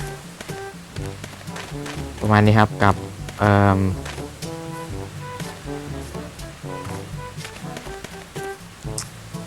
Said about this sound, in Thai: ฝนตกด้วย เป็นไง เสียงฝนโคตรดังอะ